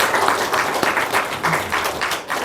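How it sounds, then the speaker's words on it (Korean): A church congregation applauds steadily for a couple of seconds, dense clapping filling the room at moderate loudness. "다 박수 한번 주세요"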